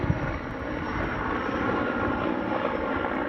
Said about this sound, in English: Maybe I should wait till that helicopter.